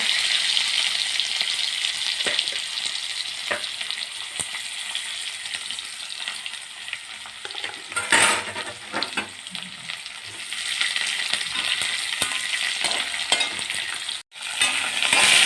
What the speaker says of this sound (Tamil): கொஞ்சம் வெந்தயம் போட்டுட்டு வெங்காயத்தை போட்டுருவோம்